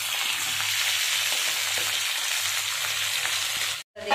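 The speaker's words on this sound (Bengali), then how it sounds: "আর এদিকে আলু ফুলকপিটা একটু ভেজে নেবো ভালো করে।" Potatoes and cauliflower fry in hot oil with a dense, close, continuous sizzle and soft stirring scrapes, cutting off briefly just before the end.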